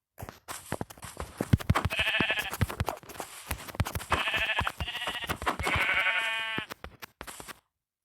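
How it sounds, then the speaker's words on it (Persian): Sheep in the Minecraft video game bleat three times, drawn-out and nasal, with short clicks and quiet gaps between the calls. "یه گوسفند دیگه."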